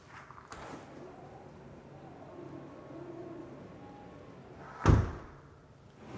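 A door clunks open sharply near the end, preceded by a softer knock, over a quiet background hum of a running fan at the bottom of a sound-insulated air shaft.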